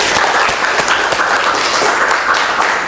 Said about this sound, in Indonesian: Berikan aplaus untuk Ajeng